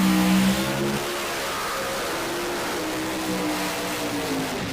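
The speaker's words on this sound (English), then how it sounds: "here comes your current points leader in the category on the left-hand side of the racetrack, that P2 machine of Kurt Steading" Drag racing car accelerating down the track at a Northern Nationals event, a loud sustained engine roar that drops slightly after the first second and then holds steady.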